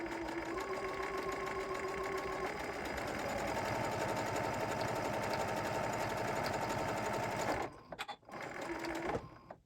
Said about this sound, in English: And now I'm at the end of my stitching.